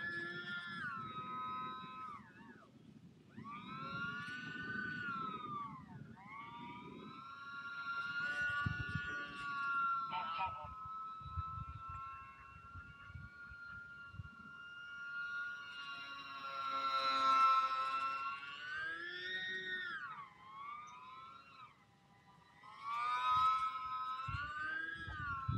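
A UMX Pitts S-1S, a small electric RC airplane, flies close by in light wind, its motor whine rising and falling in pitch as the throttle changes, steady and fairly loud for the whole stretch with no talking.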